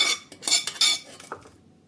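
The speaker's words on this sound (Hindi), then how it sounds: "प्याज अच्छे से ठंडा हो गया है, तो अब हम एक जार में इसको डाल लेंगे" Cooled cooked onions are scraped from a pan into a grinder jar for a Hyderabadi paneer gravy, giving a quick run of close metallic clinks and scrapes that fade out within two seconds.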